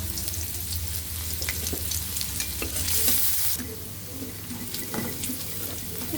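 Chopped ginger and garlic frying in a little oil in a wok, giving a dense, continuous sizzle. Brisk stirring scrapes run throughout and a brief watery rush swells in the middle.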